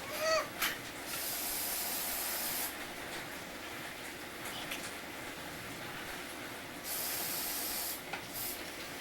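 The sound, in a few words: clear coat spray can spraying on miniature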